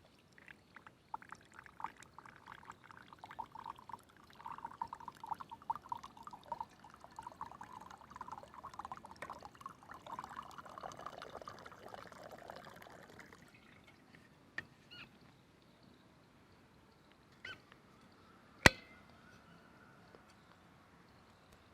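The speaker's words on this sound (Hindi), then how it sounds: "इसलिए पहले हम ये गर्म जल डालेंगे।" Warm water poured steadily into a vessel during a body detox preparation, a soft continuous trickling splash lasting about thirteen seconds, followed by a quiet pause with a few faint clinks and one sharp click.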